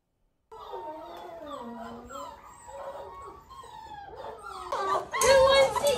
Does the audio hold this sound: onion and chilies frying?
no